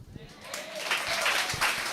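An audience at a recognition seminar in Mombasa breaks into applause, a broad wash of clapping that swells over a couple of seconds, with someone speaking over it.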